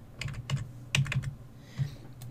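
Computer keyboard typing while using control and arrow keys in Tinkercad, with a handful of crisp clustered keypresses at an uneven pace, close and alone.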